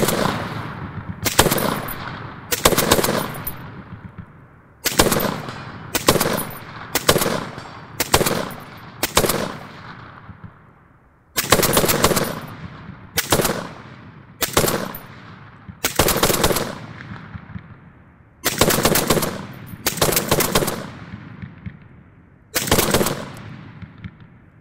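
DP-27 light machine gun firing repeated short bursts downrange outdoors, about a dozen loud rattling volleys separated by brief pauses across the whole stretch.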